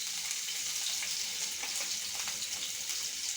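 Chillies sizzle in hot oil in a pan for vegetable noodles, a loud, steady hiss and crackle that runs close and unbroken throughout, with no one talking.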